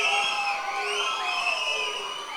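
A large crowd at a film audio launch event for Leader cheers and shouts continuously. Many high voices whoop and holler together at moderate loudness.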